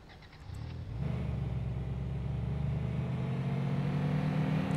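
A truck in the video game Denizen idles, then its engine rises at about one second into a steady, loud mid-pitched drone that holds while it drives, with no talk over it.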